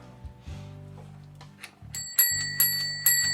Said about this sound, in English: I think the bell has seen better days.